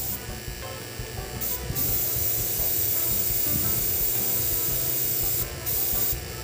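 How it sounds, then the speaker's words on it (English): Airbrush spraying gel colour onto the outer petals of a sugar sunflower: a loud, steady close-up hiss running almost the whole time, with a few brief pauses as the spray stops and restarts. "Again, spray from the outer part"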